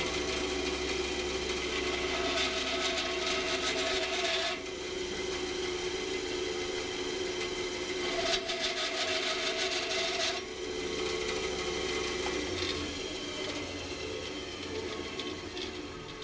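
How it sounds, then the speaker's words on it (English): Band saw cutting olive wood pen blanks, a steady motor hum with a dense rasping cut that runs loud for about four seconds, pauses briefly, then resumes for a second long cut before settling into idle running. "here we're at the bandsaw, and we're going to cut our two pieces out on these two lines"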